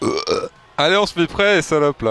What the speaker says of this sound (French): T'as roté